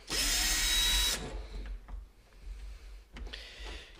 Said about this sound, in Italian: ora le svito con l'avvitatore